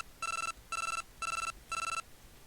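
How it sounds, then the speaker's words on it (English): Four evenly spaced electronic ring bursts from a phone in the video game Telefang, each about a third of a second long with short gaps between them, clear over a faint background hiss. "Oh, we got a phone call."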